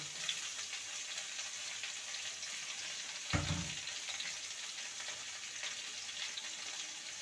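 Snake gourd (chichinga) frying with potato in a pan, a soft steady sizzle with one brief clatter midway, no voices.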